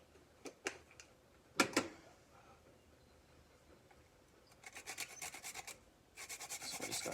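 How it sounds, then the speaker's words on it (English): Fresh nutmeg is grated for sweet potato bread, giving quiet scraping rasps in short separate strokes, then faster rapid bursts of rubbing near the end, close and alone. "So we're just going to grate that in."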